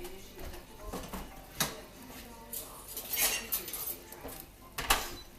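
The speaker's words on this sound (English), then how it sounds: "So let me get one of my whisks here." Kitchen utensils clatter and clink as a whisk is pulled from among them, with scattered metallic knocks and rattles at close range and soft talk in the background.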